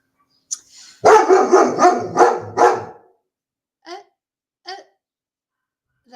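Chihuahuas barking in a quick burst of several yaps, then two or three more isolated barks, close and loud.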